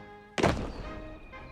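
A mortar fires once in the Gates of Hell war game, a single sharp, heavy thunk followed by a fading rumble.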